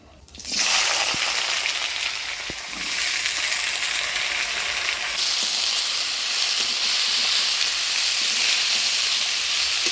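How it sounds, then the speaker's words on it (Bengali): Nigella seeds and vegetables hit hot oil for a fish curry, and a loud hiss flares up at once, then holds as a dense, continuous sizzle with a few faint clicks throughout. "ফোড়নে দিয়ে দেবো কালো জিরা দিয়ে দিচ্ছি সবজি"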